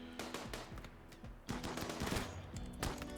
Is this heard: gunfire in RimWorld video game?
yes